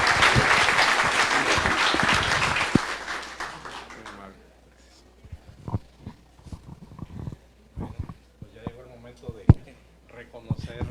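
Loud audience applause greets a faculty director at a university talk event, dense and sustained for about three seconds before fading into scattered claps and murmuring voices.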